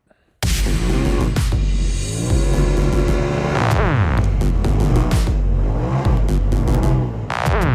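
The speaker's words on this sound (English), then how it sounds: "This RZR is absolutely a blast to drive." A Polaris RZR Turbo side-by-side revs hard while driving, its loud engine surging and dropping through repeated throttle bursts with rising and falling pitch, starting abruptly after a brief quiet moment and running nearly continuously to the end.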